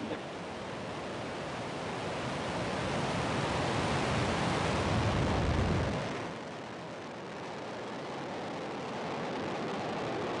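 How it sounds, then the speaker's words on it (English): A SpaceX Falcon 9 rocket lifts off from Vandenberg on the NROL-57 mission, a distant broad roar that swells steadily for several seconds, then drops back to a softer, sustained rumble. "Ignition. Liftoff of the Falcon 9."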